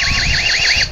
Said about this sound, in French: On a aussi l'alarme.